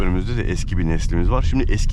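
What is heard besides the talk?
No distinct noise like a dog, phone or traffic.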